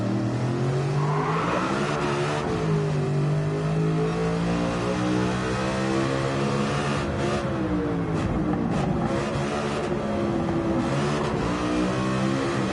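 A Mustang race car engine revving hard on a track, loud and close, with pitch rising and falling through repeated accelerations and gear changes, steady throughout with no speech.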